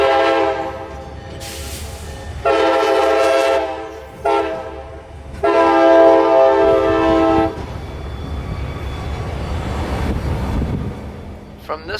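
A local freight train with a single engine heading back to the yard near Tampa, Florida, blasting its horn in several long and short loud blows, followed by rumbling rail noise as it passes close by.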